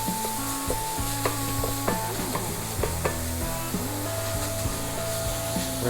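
Frozen ground beef frying in a pan on the stove, steady loud sizzle with scraping and stirring clatter from a utensil, no talking.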